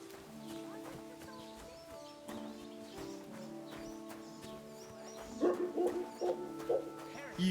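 A dog barks in a Kingdom Come: Deliverance 2 village at evening, a few short yaps near the end over a quiet ambience of hoofbeats and distant townsfolk.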